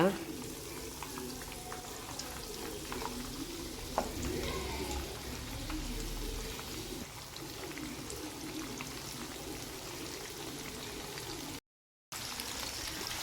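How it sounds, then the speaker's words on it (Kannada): Fish coated in semolina frying in hot oil, a steady low sizzle and bubbling that runs throughout, moderately faint and close, with a brief gap near the end. "ಎಲ್ಲ ಮೀನನ್ನು ಅದೇ ರೀತಿ ಆಯಿಲಲ್ಲಿ ಬಿಡುವ"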